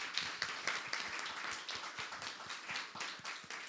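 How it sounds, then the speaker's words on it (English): Audience at a panel discussion clapping in steady, moderately dense applause, fairly faint and continuous for a few seconds with no talking. "So a round of applause for them, please"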